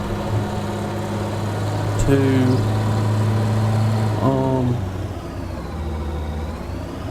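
Tractor engine idling in Farming Simulator 19, a steady low mechanical hum with pitch shifts as it revs, heard under someone talking.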